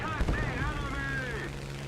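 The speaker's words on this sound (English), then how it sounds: "Like this has got a cannon, that's what a cannon sounds like." Cannon fire in the War Thunder video game: a quick thump of shots at the start, then aircraft engine drone with whining tones carrying on steadily underneath.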